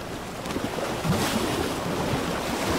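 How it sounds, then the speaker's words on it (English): Storm waves crash and surge against a ship at sea, a continuous roaring wash of surf with gusting wind noise throughout, loud and close. "The ship turned perilously against the wind and began to roll sideways, waves crashing over the railing."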